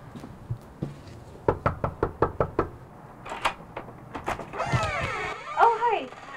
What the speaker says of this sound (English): We went knocking door to door to see for ourselves